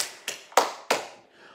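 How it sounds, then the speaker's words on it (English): Three sharp, separate hand claps ring out close by at a slow, uneven pace, with a softer fourth at the end, clapping along for Rupert the Bear at a live children's dance show. "I'm going to give another big clap to Rupert the Bear."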